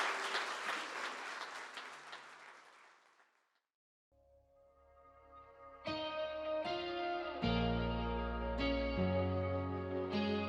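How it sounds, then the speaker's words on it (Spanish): Congregation applause at a City Church Barcelona worship service in Barcelona, a dense crackling wash of clapping that fades out over about four seconds, followed by loud reverberant keyboard and band chords swelling in. "Dale un aplauso al Señor."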